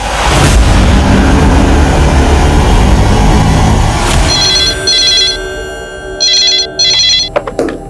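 A telephone rings at a police station in a crime drama, its electronic ringing tones sounding in repeated bursts near the end over fading background rumble and engine noise.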